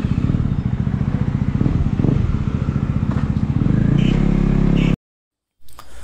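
A modified KTM Duke 250 motorcycle pulls away with a loud, close engine note that pulses and rises in revs for about five seconds, then cuts off abruptly into silence before a brief faint burst of sound.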